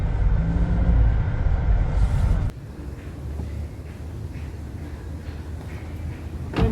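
A JAC T40 car engine revs and rumbles while the car slips a little on dirt, loud and close for the first two seconds, then drops to a lower, steadier drone with wind noise.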